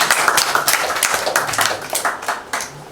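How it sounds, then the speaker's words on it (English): A small group claps for themselves at an International Day of Persons with Disabilities celebration, a short burst of loud, close, uneven handclaps with no talk. "so clap for yourself guys"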